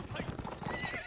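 Cavalry horses in the video game Mount & Blade: Warband, with rapid hoof clip-clops and whinnies from a mounted battle crowding together under a voice speaking.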